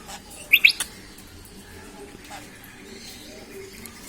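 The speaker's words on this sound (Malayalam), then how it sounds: "ഇതാണ് ഞങ്ങളുടെ ആഫ്രിക്കൻ ലവ് ബേർഡ്സ്." African lovebirds in a home cage give a quick cluster of high, sharp chirps, close and fairly bright, followed by quiet rustling and faint room sound.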